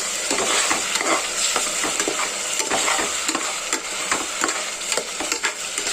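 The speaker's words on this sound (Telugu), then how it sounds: "ఇది పచ్చి వాసన పోయేదాకా మనం ఇలా ఫ్రై చేసుకోవాలండి" Chicken sherva masala frying and being stirred in a pan: a steady, loud sizzle runs throughout, with frequent scraping stir strokes close by.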